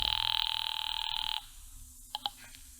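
Telephone ringing in a phone booth, a steady electric bell trill lasting over a second before cutting off, followed by two faint short clicks.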